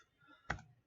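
A single sharp keystroke click on a computer keyboard, close and fairly quiet, over faint room hiss with no talking.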